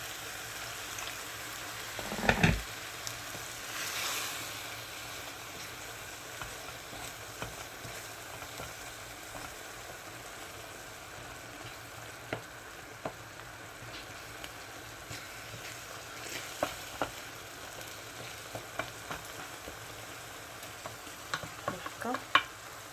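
Flour and sesame seeds being stirred and toasted in a tagine pan, giving a steady soft dry sizzle with occasional scraping clinks of a utensil, close by and alone.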